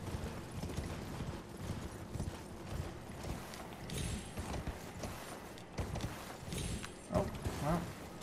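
Rhythmic hoofbeats of a horse clattering along at pace in Elden Ring, moderately loud, over a busy background of rumbling and scattered noises.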